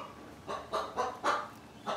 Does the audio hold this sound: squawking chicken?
yes